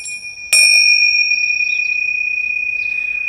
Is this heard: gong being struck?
yes